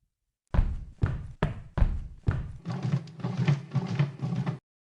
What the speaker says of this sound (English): I heard knocks coming from upstairs, and the knocks were coming from my bedroom.